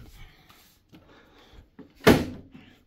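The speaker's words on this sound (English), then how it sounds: "Close that door." A door closes with a single sharp thud near the end of a quiet room, with faint speech-like rustling before it.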